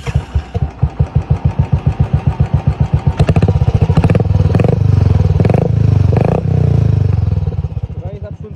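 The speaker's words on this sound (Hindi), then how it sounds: "इसका एग्जॉस्ट नोट आप लोग को सुनाते हैं।" A Royal Enfield Classic 350 motorcycle with an aftermarket exhaust idles in a slow, loud, bassy thump, then is revved into a deep sustained roar that rises and falls before settling back, heard up close.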